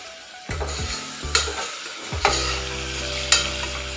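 Capsicum curry with turmeric stirred in a pan, a spoon scraping in four distinct strokes over a soft steady sizzle, close and fairly loud, with no voices.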